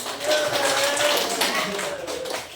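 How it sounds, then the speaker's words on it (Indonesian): Children in an elementary classroom clap together in a dense, fast burst of applause lasting a couple of seconds, nearby and fairly loud, with voices mixed in. "Tepuk tangan untuk"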